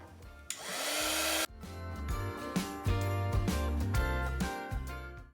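A heat tool warms embossing powder on a hand-stamped Christmas card, giving a loud, even blowing whoosh for about a second before cutting off, with music playing throughout.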